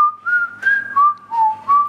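A person whistles a short melody alone, clear and close, with several sustained notes rising and falling in a lilting tune.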